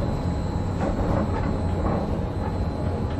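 Steady rolling rumble and whir of the Disneyland monorail heard from the front seat while riding, a continuous even drone with faint rattles and no talking.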